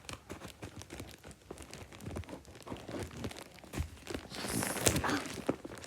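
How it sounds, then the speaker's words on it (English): Scissors snip and tear through plastic packaging during an unboxing, a close, irregular series of crinkling cuts and rustles that grows busier and sharper toward the end. "I'll just use scissors."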